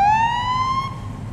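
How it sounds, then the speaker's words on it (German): A police car siren in the Police Simulator: Patrol Officers video game gives a single loud rising wail that holds steady, clear and alone with no talk over it. "So, wie mache ich Sirene?"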